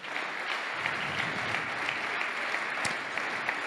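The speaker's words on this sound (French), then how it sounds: "4 nommés qui méritent vos applaudissements." Audience applause for four nominees at a French housing awards ceremony, steady, even clapping from a sizable crowd sustained throughout without pause.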